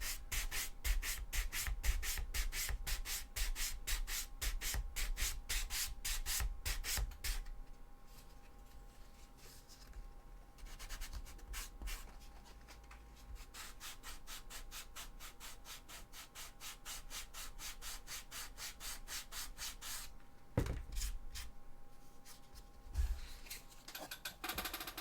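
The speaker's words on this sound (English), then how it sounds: "give that a sand" A handle for a Warhammer 40k Sisters of Battle cosplay weapon being sanded by hand, with fast rhythmic rubbing strokes at first, then steadier, quieter scraping with a few louder strokes near the end.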